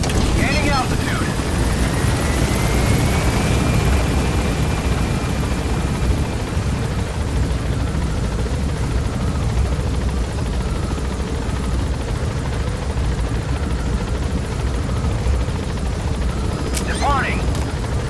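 A helicopter in Metal Gear Solid V gains altitude, its rotor and engine drone steady and continuous at moderate loudness, with faint whistling tones and brief metallic clicks near the start and end.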